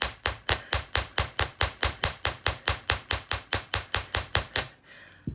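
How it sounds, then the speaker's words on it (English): A hammer strikes a wire-wrapped beaded bangle about twenty times in a steady, even rhythm, each blow loud, sharp and close with a short ring. The strikes stop near the end, and no one speaks. "this is, again, more hammering"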